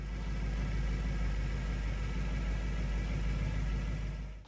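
A Mercedes SL63 AMG with its hand-built 6.2-liter naturally aspirated V8 idles in a steady, deep rumble, loud and continuous throughout before cutting off at the very end, no voices.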